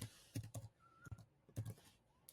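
Fingers type on a computer keyboard in short, quiet bursts of close, crisp keystrokes with brief pauses between them.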